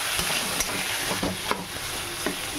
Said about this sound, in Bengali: তো আলুটা এইভাবে ভালো করে ভাজা ভাজা করতে হবে